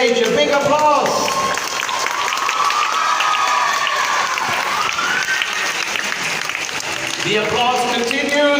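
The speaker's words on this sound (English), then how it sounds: "The applause continues till she's here on stage." A magic show audience claps and cheers as a volunteer comes up on stage, steady applause with some whooping, while a voice and music carry on over it.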